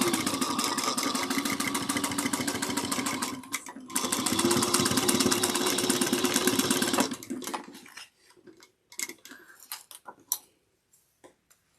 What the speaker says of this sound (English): I'm going to sew at 3/8 of an inch. Back stitching, back stitching, back stitching.